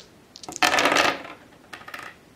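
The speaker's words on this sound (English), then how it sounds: "He can roll 4 dice." Four dice tumble and clatter across a table during the board game Target Earth: a sharp burst of rattling hits followed by a softer second scatter of clicks, heard alone.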